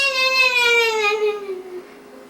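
A voice imitates a passing locomotive, holding one sustained tone that slides steadily downward in pitch like a Doppler shift before trailing off after about two seconds.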